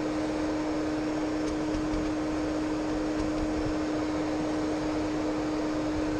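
A homemade bee vacuum pulls steady suction, giving a continuous even motor-and-airflow hum with a fixed tonal whine throughout, no voices over it.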